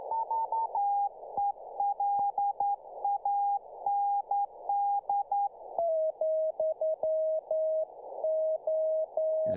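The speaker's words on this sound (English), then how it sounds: "Was that Morse code there?" Morse code on a ham radio receiver, a single clean tone keyed in rapid dots and dashes, its pitch dropping slightly partway through, steady and alone over faint hiss.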